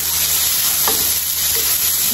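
Spicy squid being stir-fried in a pan, a steady dense sizzle carrying on close and loud throughout, with a couple of brief scraping stirs breaking through the hiss.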